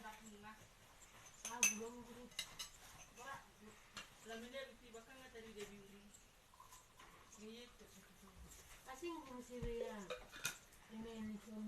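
A spoon stirring powdered milk into water in a glass or cup, with light clinks and tapping under someone talking nearby.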